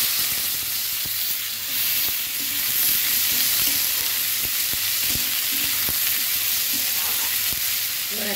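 Chopped onion frying in a pan for a Bengali egg curry, giving a steady, even sizzle throughout with a few faint stirring clicks underneath.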